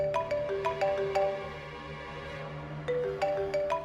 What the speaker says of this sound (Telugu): ఇది ఇప్పుడు ఎవరు ఫోన్ చేస్తున్నారు?